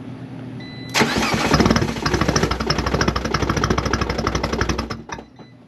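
A car engine fires up with a sharp start, then a quick throttle blip rises and falls into a loud, steady idle with a pulsing, rapid rhythm that cuts off abruptly near the end.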